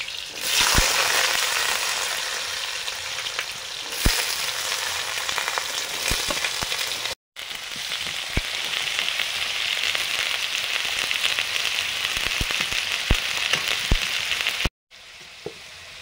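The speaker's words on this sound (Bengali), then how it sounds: "আলুগুলো এরকম ভেজে নিয়েছি।" Potato pieces frying in hot oil with dried red chilli and black cumin, a steady loud sizzle with crackling pops throughout, briefly cutting out twice.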